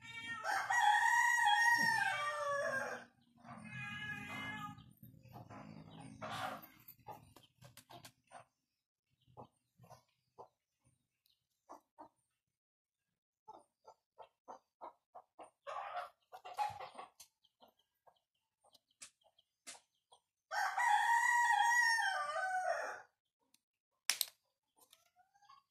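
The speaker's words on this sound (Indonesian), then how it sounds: "Ketiga, binatang ayam." Chickens clucking and a rooster crowing cock-a-doodle-doo, with long loud crows at the start and again near the end, separated by scattered short clucks and quiet pauses, close and clear.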